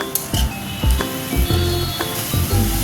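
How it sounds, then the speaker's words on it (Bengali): Chicken mixture with ginger-garlic paste and salt sizzles in a pan as chilli, tomato and soy sauces are stirred in, with repeated clinks of a spoon against the pan over the steady frying hiss. "এবার chilli sauce, tomato sauce, soya sauce দিয়ে একটু নাড়াচাড়া করে"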